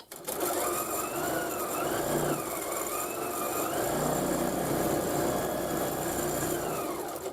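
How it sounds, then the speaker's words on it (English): Longarm quilting machine free-motion stitching a scrappy flower basket quilt, a continuous fast mechanical whir that rises and falls in pitch as the head moves, steady and close. "And then I'll just stitch a little bit there."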